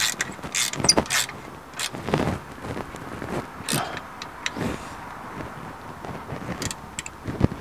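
During reassembly after a timing belt change on a Mitsubishi 3000GT/GTO, a wrench tightens a bolt with irregular metallic clicks and ratcheting bursts, close and intermittent, separated by quieter handling noises.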